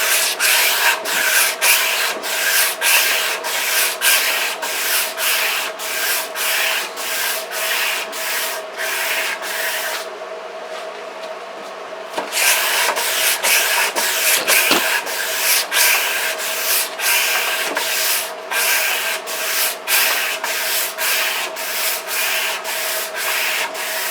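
Steady, loud back-and-forth strokes of sanding on a wooden kitchen table being refinished, a brief pause midway, then the rhythmic rubbing resumes, with no voices.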